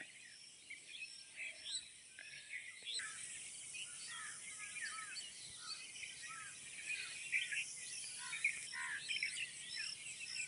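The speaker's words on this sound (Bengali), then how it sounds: "এখন সকালে চারিদিকে শুধু পাখির ডাক" Many birds chirp and twitter across an open field at early morning, a dense, fairly distant chorus of short calls that grows fuller after the first few seconds, with insects buzzing faintly beneath.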